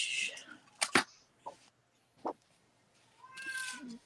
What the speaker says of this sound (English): Oh, that's my cat, guys.